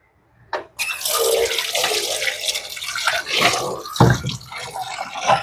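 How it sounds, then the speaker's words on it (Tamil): Tamarind being rinsed by hand in a bowl of water for cooking, with close, continuous sloshing and splashing and a few sharper splashes toward the end. "அதால ஒருக்கா கழுவி எடுக்கிறேன்"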